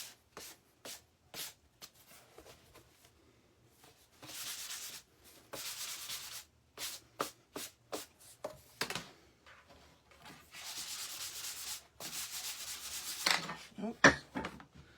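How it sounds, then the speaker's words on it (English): Wood is hand-sanded with 220 grit sandpaper in quick back-and-forth scratchy strokes, some short and some sustained, close by and at modest volume, separated by brief pauses. "to finish it up, I used a 220 grit, and that just smooths it out really nicely"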